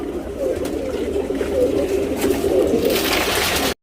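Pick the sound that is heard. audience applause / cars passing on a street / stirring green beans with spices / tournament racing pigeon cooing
tournament racing pigeon cooing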